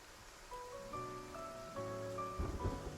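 Rain falls steadily on a rainy day, a continuous hiss spread under soft, sustained melodic music, with a few louder patters near the end; no one speaks.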